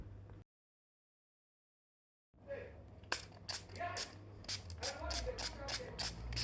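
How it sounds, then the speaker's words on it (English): Water is sprayed from a hand spray bottle onto substrate in a tarantula enclosure, a series of short close hissing spritzes with trigger clicks after a brief silent gap. "So we'll give it a spray down."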